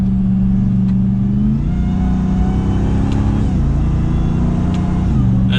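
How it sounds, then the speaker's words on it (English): The supercharged engine of a 2022 Ram 1500 TRX pickup in sport mode, heard from the cabin, accelerates with a loud, steady whine and drone that climbs in pitch and steps down at each gear change. "That supercharger whine never gets old."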